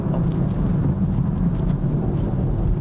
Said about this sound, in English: that is a lovely sound on a downshift.